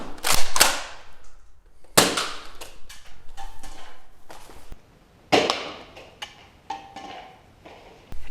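A Nerf blaster fires in several sharp, loud pops, each followed by clattering mechanical rattles and short decays, with pauses between shots and no talking.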